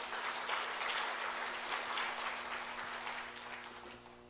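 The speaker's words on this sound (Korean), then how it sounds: "우리 다시 한번 하나님께 영광의 박수를 올려드립시다." Church congregation clapping together in praise during a worship service, a broad continuous round of applause with a faint steady hum underneath, gradually tapering off.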